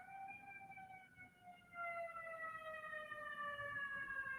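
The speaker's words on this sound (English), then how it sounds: "That's an ambulance." An ambulance siren wails steadily outside, its tones sliding slightly downward as it passes, fairly loud and continuous throughout with no speech.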